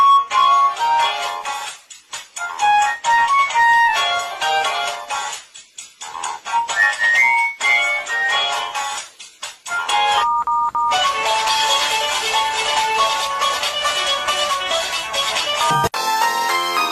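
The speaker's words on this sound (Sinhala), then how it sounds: "පොඩි කාලේ අම්මගේ ෆෝන් එකෙන් රින්ග්ටෝන් අහන මම" A mobile phone ringtone plays a bright electronic melody of short tonal notes with brief pauses, growing fuller and denser in its second half before ending abruptly.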